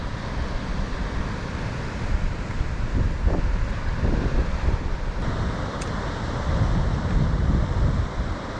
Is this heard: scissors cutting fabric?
no